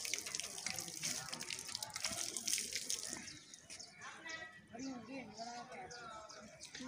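Water runs steadily from a tap as children drink at the shrine of Pir Waris Shah in Jandiala Sher Khan, Punjab, with children's voices and chatter over the splashing flow.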